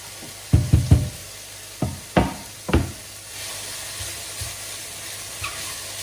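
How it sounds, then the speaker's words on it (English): Spring onions, garlic, ginger and chili hit a hot pan for a vegetable stir-fry: a few sharp knocks as they drop in, then a soft, continuous sizzle that fades into a quiet hiss. "hear that lovely sizzle again"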